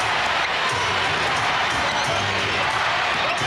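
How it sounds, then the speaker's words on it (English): A basketball arena crowd at a 2004 Lakers at Magic game in Orlando, a dense, loud sustained roar with rhythmic chanting swelling through it and faint talk underneath. "Crowd chanting and maybe praying for some defense."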